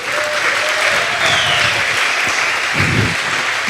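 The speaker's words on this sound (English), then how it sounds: "Can we applaud this guy?" A crowd at a game awards ceremony in Berlin claps enthusiastically, dense steady applause throughout with a few faint voices mixed in.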